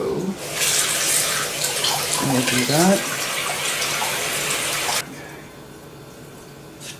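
Water gushes loudly and steadily from a kitchen tap for about five seconds while being measured out for a sourdough starter, then abruptly shuts off, with someone speaking briefly over it.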